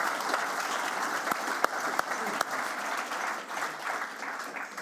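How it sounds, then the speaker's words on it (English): An audience applauds for a guest introduced during an interview event, a moderate, steady wash of clapping with a few sharp, distinct claps standing out near the front. "who I want you to give a rousing great applause to"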